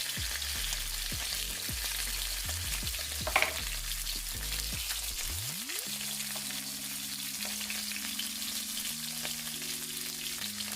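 Plantain and cornmeal dumplings fry in hot oil in a pan, giving a steady, close sizzle that runs the whole time with no talking, while a low tonal hum sits underneath.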